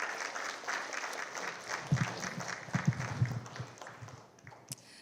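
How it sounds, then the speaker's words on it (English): An audience at the 22nd IACF Unity Dinner applauds an esteemed panel, a soft, fairly distant patter of clapping that swells briefly in the middle and then tapers off toward the end. "please give us a round of applause for this esteemed panel"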